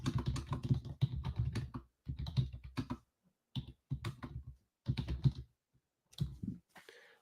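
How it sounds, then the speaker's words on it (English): Rapid typing on a computer keyboard into a WebEx chat, coming in bursts of close, crisp key clicks separated by short pauses. "I'm also going to be typing in our WebEx right now."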